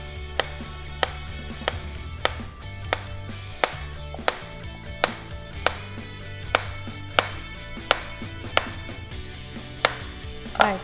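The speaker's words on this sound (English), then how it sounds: "you just cut it in the round shape" A knife slices a peeled plantain into rounds on a cutting board, with crisp, regular taps striking the board about once a second, close and clear over faint background hum.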